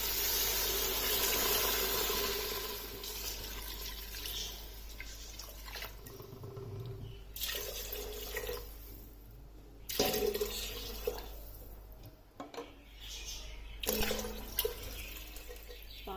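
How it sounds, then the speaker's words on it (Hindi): Water pours and splashes into a pot in several bursts, loud at first, then intermittent gushes separated by quieter pauses. "अब इसमें पानी ऐड कर देना है।"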